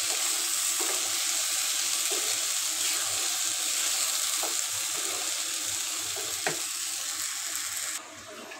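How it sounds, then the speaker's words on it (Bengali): Water poured into rice frying in a pot brings a loud, even sizzle and watery rush, broken by a few stirring taps, before it drops off abruptly near the end. "এই তো আমি পানি দিয়ে দিছি"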